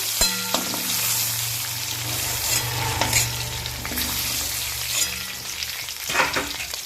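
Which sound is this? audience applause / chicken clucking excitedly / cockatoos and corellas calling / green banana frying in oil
green banana frying in oil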